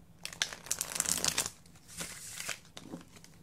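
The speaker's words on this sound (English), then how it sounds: "it's gotten me shuffling this deck like way more than I normally would" Tarot card deck being shuffled by hand, a burst of crisp papery riffling and crinkling followed by softer scattered card slaps and shuffles, close and fairly quiet.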